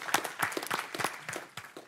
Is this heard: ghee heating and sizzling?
no